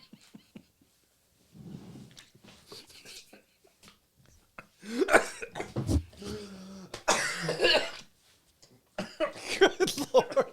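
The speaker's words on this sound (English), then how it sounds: "Did you cough?" Harsh coughing bursts erupt in clusters, several loud hacking coughs and throat clearing close to the microphone, separated by quieter rustling and breaths.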